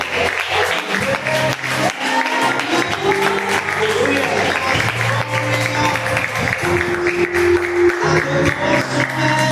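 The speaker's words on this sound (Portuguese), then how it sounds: "aplauda o nome do Senhor Jesus." A church congregation applauds in worship, a sustained bed of clapping that blends with voices and a few lingering musical tones throughout.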